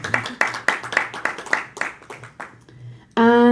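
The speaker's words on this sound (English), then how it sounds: "An applause for him as well." Audience at an international forum applauds as a panelist joins the table: a few sharp rhythmic claps from a small group, fading over a couple of seconds before a sustained tone cuts in.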